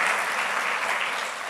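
Congregation applauding in a church, a dense, steady wash of many hands clapping at once, close and fairly loud, fading slightly at the end.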